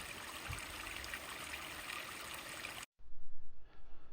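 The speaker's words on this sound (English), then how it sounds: "The rocks at the bottom of the cascade have been repositioned a couple of times just to get the right sound and splash." Water cascades steadily over repositioned rocks into a backyard pond, a continuous close splashing rush that cuts off abruptly, followed by faint outdoor quiet.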